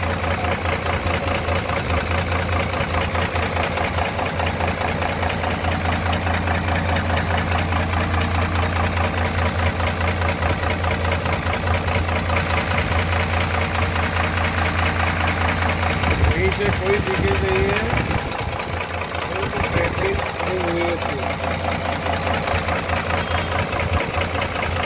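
A freshly rebuilt Tata 4018 truck diesel engine idles steadily and loudly throughout, with a constant low rumble and faint knocking; a brief shift in tone near the end, with faint talk in the background.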